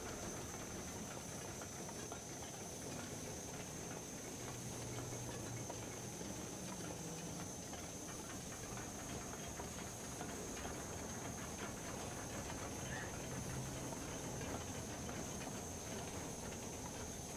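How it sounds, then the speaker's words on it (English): Lit flares in the game The Record Keeper near a railroad, a constant steady hiss with faint crackle running unbroken throughout, fairly quiet ambient texture. "I really don't like the sound of the flares"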